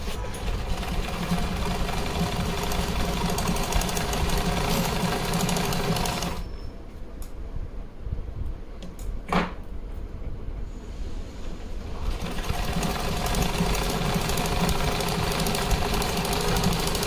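A sewing machine stitching a thin multicolor lace onto a dress, a steady rapid mechanical whir and knocking that runs for several seconds, stops briefly amid quiet handling, then resumes.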